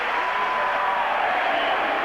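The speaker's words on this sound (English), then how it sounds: "Oh, you can hear the groans of the crowd there." A stadium crowd at a European athletics championship lets out a broad, sustained murmur of disappointment that stays steady for about two seconds.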